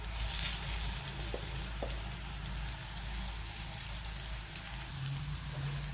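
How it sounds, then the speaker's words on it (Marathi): Vadis roasting in a pan with a little oil give off a steady, close sizzle and crackle throughout, with faint scrapes of stirring under it. "पहा आपल्या वड्या आता भाजत आहेत"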